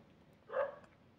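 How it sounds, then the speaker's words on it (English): A single short bark from a female dog somewhere in the house, fairly faint and slightly distant against a quiet room. "There goes my dog."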